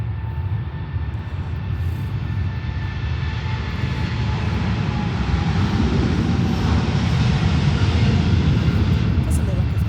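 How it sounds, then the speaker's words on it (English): A Norse Boeing 787 jet rolls for takeoff with a loud, continuous engine roar that builds steadily in strength, close and unbroken throughout. "Alright, 787 Boeing Norse ready for takeoff. It's going."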